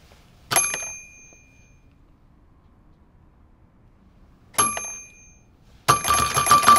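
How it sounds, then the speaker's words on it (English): A bell rung three times: two separate bright dings, each ringing out and fading over about a second, then a third ring that continues to the end, with quiet between them. "Every time I rang the bell"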